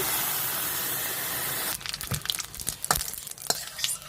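Water poured into a hot pan of frying soybeans and potato hisses loudly for a steady stretch, then settles into softer intermittent sizzling and bubbling with occasional stirring clatter.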